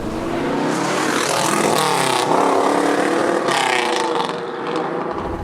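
A 1969 Pontiac Trans Am Ram Air III with a 6.6L V8 accelerates hard in first gear, its engine note climbing in loud, close rising sweeps before easing off near the end.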